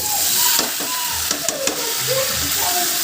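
Country chicken is sautéed in a pan until well browned, with a loud, continuous sizzle and a quick run of spoon-scraping stirs near the middle.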